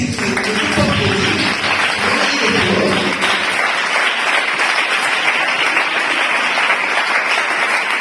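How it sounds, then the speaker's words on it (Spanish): A church congregation applauds in a loud, dense, steady wash of clapping that lasts throughout, with a voice and low sounds beneath it at first before the clapping carries on alone. "Aplaude"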